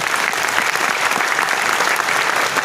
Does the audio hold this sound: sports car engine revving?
no